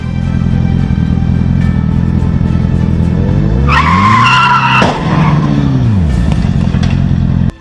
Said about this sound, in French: Les freins du camion hurlaient, les pneus fumaient